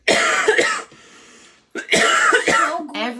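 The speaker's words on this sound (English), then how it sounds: "I turn the live video on, I cough." A person coughs and clears their throat several times in quick bursts, close and loud, with a short quiet pause between.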